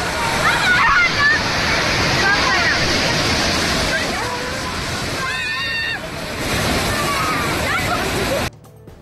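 A monsoon waterfall near Bhushi dam in Lonavala rushes loud and steady, a dense broadband roar that continues under a narrating voice.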